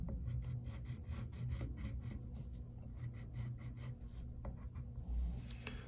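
A pencil sketches a cartoon slipper on paper, giving off a steady run of short, scratchy strokes that repeat closely and quietly throughout with no voices.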